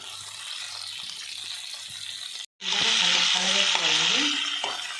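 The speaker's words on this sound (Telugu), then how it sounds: "ఈ విధంగా పచ్చిమిరపకాయలను ఆయిల్లో వేయించుకోవాలండి." Green chillies frying in hot oil in a home kitchen: a steady hiss that swells into a louder, brighter sizzle after a short gap, with someone talking over it.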